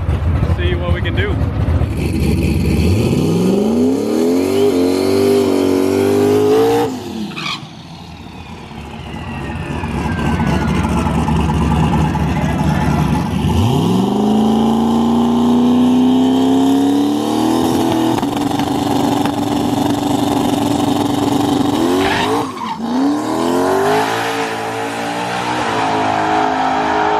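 A drag race car makes a pass on an aggressive tune-up, its engine screaming as it climbs through the gears in a series of rising sweeps, with brief drops between shifts, loud and close throughout.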